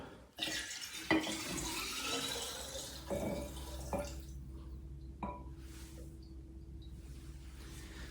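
Alcohol being poured into water while making a Carpathian-style gin infusion: splashing liquid and a few clinks of glass at first, then faint trickles and drips in a quiet room.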